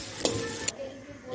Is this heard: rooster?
no